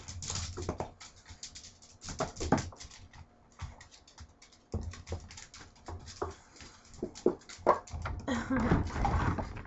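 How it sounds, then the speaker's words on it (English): Irregular scuffling and clicking, like paws scrambling on a hard floor, with faint whimpers, in bursts across the clip. "You can probably hear my dogs running around all crazy."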